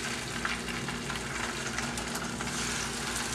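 A trout fillet sears skin side down in a hot pan, giving a loud, dense, continuous sizzle and crackle that holds steady throughout with no voices.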